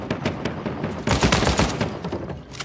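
Rapid automatic gunfire from an Uncharted 4 multiplayer match rattles in dense, overlapping bursts, loud and close, with a heavier volley in the middle and no talking.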